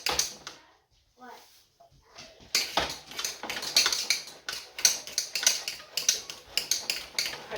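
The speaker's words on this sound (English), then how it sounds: "I do this with the potato masher." A potato masher works through potatoes in a pot, giving repeated squishy thumps and scrapes against the pot that start after a quiet stretch and continue in an uneven rhythm, close by.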